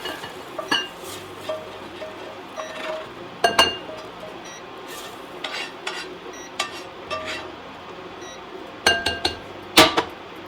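Sausage and mushroom stuffing for stuffed mushrooms is scraped from a pan into a bowl, with scattered clinks and taps of utensil against cookware and glass, a few sharper knocks near the end over quiet kitchen background.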